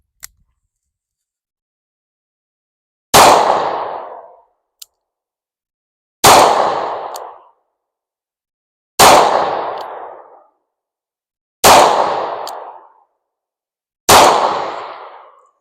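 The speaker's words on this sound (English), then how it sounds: "With the shotgun shells inside, it does have a lot more recoil." Five loud, sharp shotgun blasts from .410 shells loaded with number 6 shot, fired one at a time at roughly three-second intervals, each with a short ringing decay and no talking.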